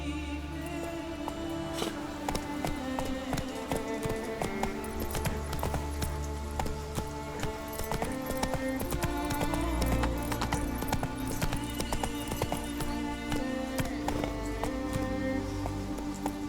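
Roach, the horse in The Witcher 3, gallops with steady rapid clip-clop hoofbeats under a continuous game music score, the hooves close and loud throughout.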